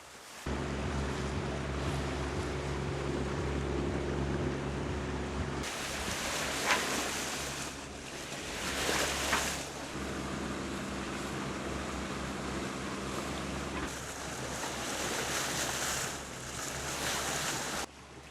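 A sailboat motoring on both engines across the open ocean between the Bahamas and the Caribbean, giving a steady low engine drone with wind and wave wash over it and short surges of water noise.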